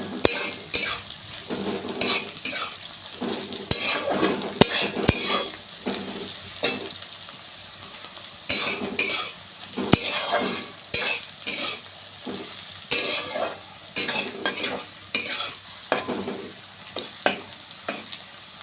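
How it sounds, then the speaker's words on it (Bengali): Onions and a ginger spice paste fry in a pan as a utensil stirs them, giving a steady sizzle broken by repeated scraping and clinking strokes against the metal, close up and fairly loud with no talking. "আমার এখানে দেখুন পেঁয়াজটাও ভাজা ভাজা হয়ে এসেছে"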